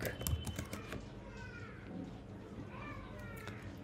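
Keys tapped on a computer keyboard while entering a theme name into a search field, a run of quick close clicks heard under steady talking.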